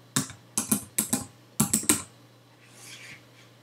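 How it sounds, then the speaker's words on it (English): Short bursts of keystrokes on a computer keyboard, typed in three quick clusters of three or four presses each with brief pauses between, close and crisp over a low steady hum, with no talking. "And if I just type Happy Christmas with a capital H"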